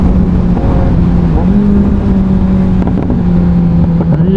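Kawasaki Ninja 1000SX motorcycle in sports mode, exhaust droning loud and close with steady engine note that rises and dips in short revs, continuous throughout.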